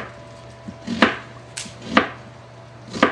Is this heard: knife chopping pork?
yes